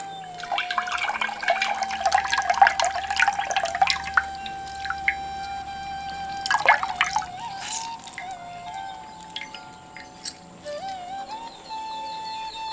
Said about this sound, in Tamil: ஊற வச்சிருந்த புளியை இப்ப கரைச்சு எடுத்துக்குவோம்.